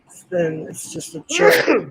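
A single sharp, breathy sneeze bursts out loudly right after a few words of casual talk from a person nearby.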